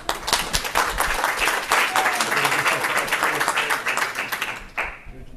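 An audience at a disability policy health summit applauds steadily, a dense wash of clapping hands that holds for about five seconds before tapering off abruptly, with voices mixed in.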